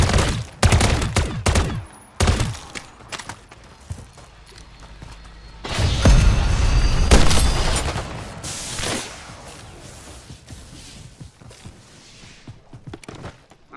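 Gunfire in the Modern Warfare Zombies video game: loud bursts of shots cluster early and again in the middle, with scattered impacts and busy battle noise in between.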